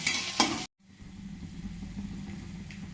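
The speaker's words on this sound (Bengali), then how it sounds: "কড়াইয়ে তেল দিয়ে দিয়েছি, এরপরে এতে পেঁয়াজ কুচি, আদা কুচি, রসুন কুচি, ক্যাপসিকাম কুচি আর পাকা লঙ্কা কুচি দিয়ে এটা একটু হালকা ফ্রাই করে নেব" Chopped onion, ginger, garlic, capsicum and chilli hitting hot oil in a wok: a brief loud burst of sizzling, a sudden cut to near silence, then a quieter steady fry.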